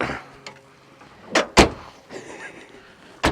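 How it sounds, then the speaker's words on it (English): An old 1990s French car, a Renault or Peugeot, has its door worked: a couple of sharp, close thumps and clunks of the door latching and shutting, with faint rustling between them and no talking. "My door's not working terribly well."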